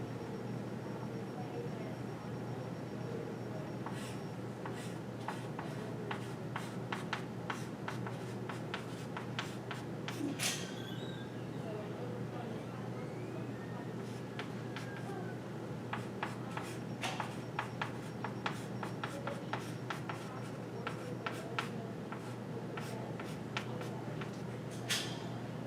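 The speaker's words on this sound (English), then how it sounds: "I have to write it kind of small" A pen scratches out a math formula by hand in quick, close strokes and taps, in bursts of small marks over a steady room hiss.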